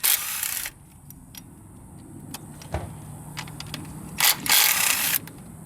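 A ratchet wrench clicks in short bursts while loosening coil pack bolts on a Kia Amanti engine, with rapid pawl ratcheting near the start and again toward the end, separated by quieter handling noises.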